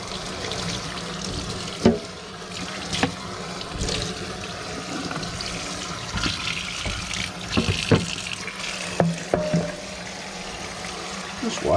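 Running tap water streams steadily over a vintage lunchbox being washed in a sink, a continuous splashing rush broken by a few sharp clunks of the metal box, close and fairly loud.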